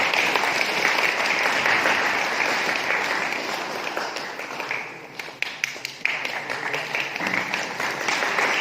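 Steady applause from a crowd at an Oraon wedding ceremony, a sustained wash of many hands clapping at full strength that thins out briefly midway and then picks up again in scattered, sharper claps.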